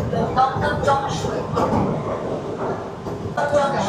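A Sealdah–Bangaon AC local train rolls along, its steady rumble and rhythmic wheel clatter loud and close throughout, with voices and an announcement-like tone faintly mixed in.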